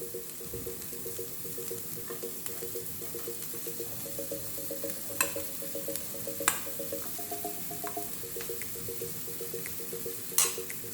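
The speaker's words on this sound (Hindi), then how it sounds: "हमारे कैप्सिकम्स और ऑनियन थोड़े से टॉस हो चुके हैं।" Capsicum and onion sauté on a hot pan, with an even soft hiss of frying, a faint rhythmic stirring pulse and a few sharp utensil clinks now and then; no one speaks.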